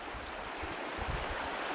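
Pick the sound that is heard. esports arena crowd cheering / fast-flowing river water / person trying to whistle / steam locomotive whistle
fast-flowing river water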